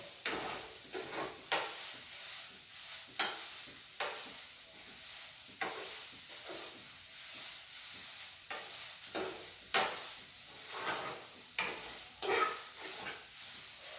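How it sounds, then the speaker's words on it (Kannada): Grated carrot halva fries in ghee in a pan while being stirred, a soft continuous sizzle broken by repeated scraping stirring strokes at an irregular pace, close and fairly quiet, with no talking. "ಮತ್ತೆ ಇದಕ್ಕೆ ಸ್ವಲ್ಪ ತುಪ್ಪ ಹಾಕ್ತಾ ಇದ್ದೀನಿ"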